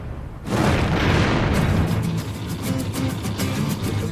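A tanker truck struck by a train explodes into a loud, sustained roaring boom that rumbles on for several seconds with a crackling burst in the middle.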